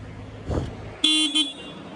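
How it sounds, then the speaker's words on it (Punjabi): A car horn gives a short toot and then a second brief blast at a petrol pump, sharp and fairly near, following a soft thump. "ਹਾਰਨ ਮਾਰ ਮਾਰ ਅਸੀਂ ਤਾਂ ਹੋ ਗਏ ਕਮਲੇ"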